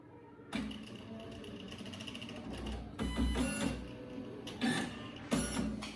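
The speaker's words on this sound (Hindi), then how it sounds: "देखिए यहाँ पे प्रिंटर ऑन होने के बाद" An Epson PLQ-30 passbook printer powering on gives a steady mechanical whir broken by several louder clunks and rattles as its mechanism moves, close and continuous.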